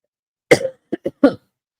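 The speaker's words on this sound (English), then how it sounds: "I'm starting to cough a whole lot more." Four short coughs: one heavier, drawn-out cough followed by a quick pair and a final harsh cough, close and clear against silence.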